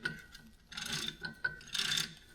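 A large 2 1/4 inch socket on a ratchet wrench clicks while working on a shed trailer's Brake Rite brake system. Two short, close bursts of ratcheting are heard with quiet between them.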